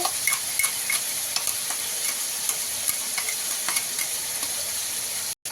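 Ginger, cumin and garlic spice paste added to meat frying in a pan makes a loud, steady sizzle, with repeated clicks and scrapes of stirring throughout until a sudden cutoff at the end.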